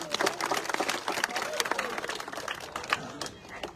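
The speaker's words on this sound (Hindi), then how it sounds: "एक बार जोरदार तालियां।" Crowd clapping at an outdoor election rally in a Khinvsar constituency village, dense and fairly loud applause with a murmur of chatter mixed in.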